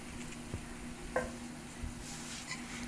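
A pot of chili with dark red kidney beans bubbles and sizzles quietly while a spoon stirs it, with a few soft scrapes and one brief knock against the pot.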